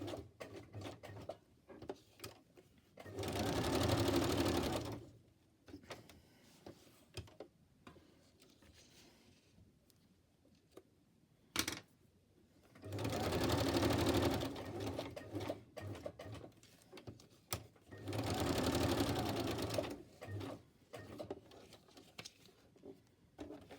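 A sewing machine stitches around a paper ephemera bag, running in three separate bursts of several seconds each, moderately loud and close, with quiet pauses between them.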